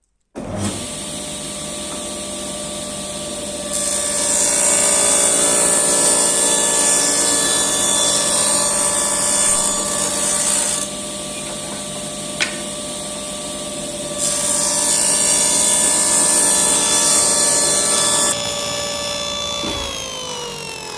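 A table saw hums steadily while cutting a zero clearance throat plate, its whine rising and easing as the wood is fed through in two loaded passes, loud and close with no talking.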